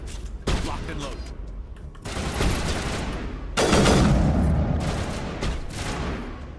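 Bursts of rapid gunfire in the video game Mass Effect, loud and close, with heavy booming volleys that swell in several waves and shots overlapping one another.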